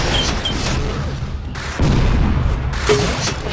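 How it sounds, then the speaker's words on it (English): Sniper rifle shots in a competitive duel video game match, with two heavy, booming blasts rising out of continuous loud gameplay noise. "another nice body shot and another headshot"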